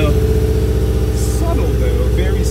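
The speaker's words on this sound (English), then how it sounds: "start it up so you can hear this bad boy. And I am hearing a very nice exhaust there" A 2013 Subaru Impreza with a five-speed and an upgraded clutch idles steadily after starting, its exhaust giving a loud, continuous low rumble with a faint higher whine on top and no talk over it.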